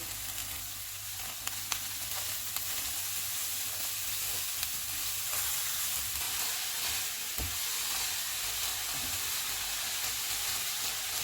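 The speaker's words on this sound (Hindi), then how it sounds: "दो मिनट के बाद शिमला मिर्च और बंद गोभी डालेंगे। इनको भी 2 मिनट तक भूनेंगे।" Bell pepper and shredded cabbage fry in a hot pan for vegetable spring roll filling, giving a steady, close sizzle with soft hissing and a few faint clicks of stirring throughout.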